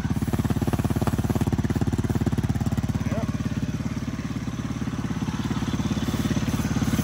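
A Polaris RZR 170's small engine idles steadily with a fast, even putter that stays loud and close throughout, with no change in pace.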